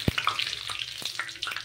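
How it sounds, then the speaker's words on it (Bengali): Nigella seeds fry in hot mustard oil for jackfruit pickle, a bright steady sizzle with a few crisp pops, close and loud with no talk. "কালো জিরেটা ভালো করে ভাজা হয়ে গেলে"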